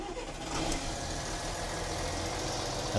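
Engine of a vehicle sunk and abandoned for ten years, running and being revved up: a rough, continuous mid-pitched drone that swells slightly and holds steady, nearby and fairly loud, with no voices.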